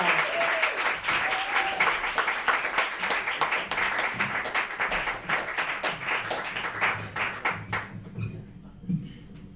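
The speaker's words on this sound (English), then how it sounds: "A big hand for Gayle Dinerstein. Clap for Gayle." A comedy club audience applauds as a stand-up comic takes the stage, with loud, dense clapping that gradually thins out and fades near the end, leaving a few scattered claps.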